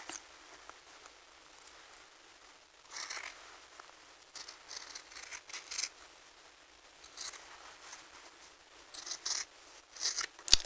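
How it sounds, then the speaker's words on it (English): Scissors trim the seam allowance on a sewn shirt, making soft, close snipping and cutting sounds in short clustered bursts with quiet gaps between them and no speech. "So you will go ahead and continue and trim that off all the way around"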